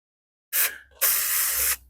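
Two bursts of compressed air hiss out, blowing out the floor of a Ford F-100 truck cab, a short blast followed by a longer steady one, close and loud with no talking.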